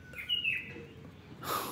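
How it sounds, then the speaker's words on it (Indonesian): Birds chirp and call in the open sky, with a few bright, short tweets near the start and a louder burst of calls toward the end over a soft, steady background. "Burung-burung berteriak manja, keras"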